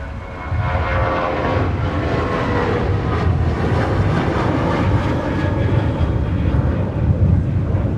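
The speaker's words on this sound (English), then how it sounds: "How about Sun Country getting off on runway 30 left?" A Sun Country airliner takes off from runway 30 left at a snowy winter airport, its jet engines roaring loud and steady for the full stretch, with no talking over it.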